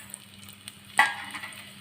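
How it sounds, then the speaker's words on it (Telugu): Tempering seeds dropped into hot oil give a sudden sizzling burst that fades quickly, faint and close, with no talk. "ఆయిల్ పోసుకున్నా ఈ తాలింపు ఇవన్నీ అందులో వేసేసుకుందాం"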